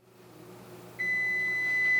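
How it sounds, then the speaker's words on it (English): A kitchen timer sounds while cookies bake, giving a single steady high-pitched beep that begins partway through and holds over a quiet background hum. "Well, there's our timer."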